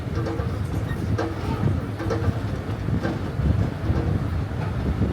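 A tram at Lookout Cay rumbles along with a steady low roll, periodic clicks and rattles, and wind buffeting the microphone.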